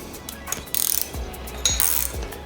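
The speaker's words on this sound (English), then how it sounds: "I can take my 17mm spanner and my 5mm Allen key and basically wind this nut back on completely" A 17mm spanner winds a coilover nut on a 2008–2014 Subaru WRX sedan, giving a few short metallic ratcheting clicks and scrapes in quick bursts, close up in a quiet home garage.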